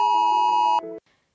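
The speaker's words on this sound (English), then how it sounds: "mobile phones across the country are going to vibrate and make a loud noise like this" UK government emergency alert tone sounding from a mobile phone, a loud, close, steady electronic tone that shifts pitch near the end and then cuts off abruptly.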